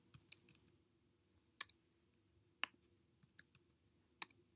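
Light keystrokes on a computer keyboard come in short, quiet bursts of clicks with pauses between them, close and faint in an otherwise silent room.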